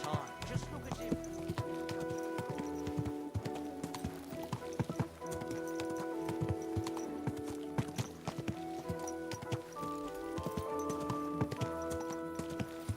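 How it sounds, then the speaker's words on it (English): Horse hooves clip-clop steadily in a video game, a rhythmic trot heard over tonal in-game music and ambience, fairly close and moderately loud. "Alright, stop here, Horsey"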